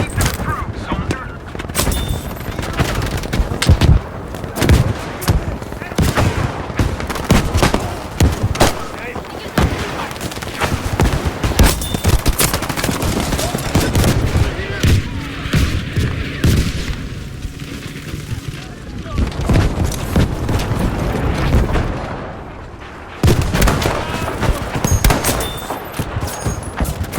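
In the video game Battlefield 5, during a Breakthrough match, rapid gunfire and the thuds of an artillery barrage pound almost nonstop, loud and close, with a brief lull near the end.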